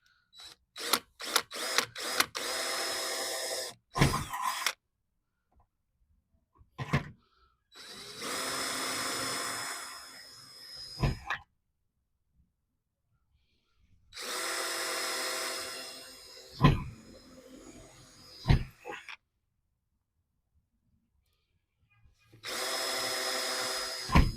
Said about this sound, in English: So now first I will use 1/8 my drill to make it hole.